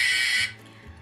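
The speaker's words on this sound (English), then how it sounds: "Oh, I pressed the buzzer," A game-show style buzzer is pressed, giving a short, loud, harsh electronic buzz that cuts off abruptly after about half a second, followed by a faint low hum.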